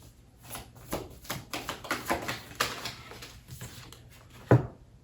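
Angel number oracle cards being shuffled and pulled, heard as a close run of soft, quick riffling taps and card slaps with a sharper knock near the end and no talking.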